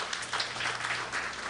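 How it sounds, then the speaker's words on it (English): Steady crowd applause fills the hall at a night of Ganesh Utsav celebrations, a dense wash of many hands clapping throughout with no pauses. "dear brother Rishi Gayadeen of RJ and Deepa, I want you to give him a round of applause"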